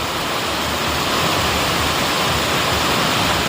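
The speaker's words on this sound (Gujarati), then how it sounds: "પતરામાં જુઓ એટલો વરસાદ પડવા મળ્યો અત્યારે હું જોરદાર જુઓ જોરદાર વરસાદ મળ્યો પડવા અત્યારે" Heavy rain drums on tin roof sheets in a Gujarati village, a loud, unbroken roar of dense noise with no pauses.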